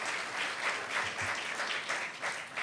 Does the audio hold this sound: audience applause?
yes